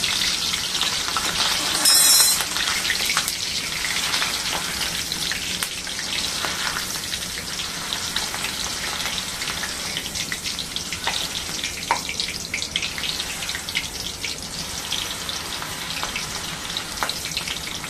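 Bhadang frying in a little oil until crisp, a steady bright sizzle running throughout with occasional pops and a brief louder crackle near the start, no voices.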